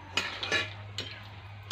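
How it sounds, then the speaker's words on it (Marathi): Turmeric roots stirred in a pan of oil in a wok for homemade raw mango pickle: a few quiet, brief scraping strokes over a faint hiss of frying. "एकसारखी आपल्याला असं हलवत हळकुंड छान तळून घ्यायचे आहेत फुलेपर्यंत."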